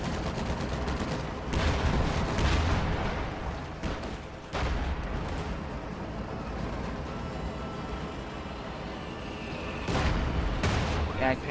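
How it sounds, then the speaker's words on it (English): Heavy tank guns boom in a World War II video game as a Jagdpanzer fires on a Stuart tank, with loud blasts at intervals over a constant roar of battle noise and engines. "Jagdpanzer taking shots at the Stewart, trying to force that back."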